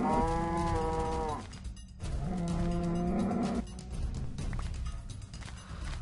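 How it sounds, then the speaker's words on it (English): A bull mob from the Evil Minecraft mod game lets out two long, loud bellowing moos one after another, followed by quieter low ambient rumble, with no speech. "The next mob up is a bull, and just like the ram, it is neutral"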